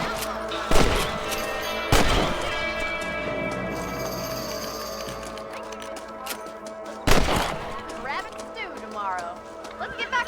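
Rifle shots aimed at rabbits in Red Dead Redemption, several loud sharp cracks spaced seconds apart with lingering echoes, while people talk and horses shuffle nearby.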